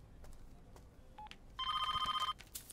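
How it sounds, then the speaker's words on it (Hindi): A telephone rings in a Hindi comedy film scene, with a short, bright electronic trill repeating rapidly for under a second amid quiet background and faint clicks. "मम्मा फोन रखो फोन बज रहा है"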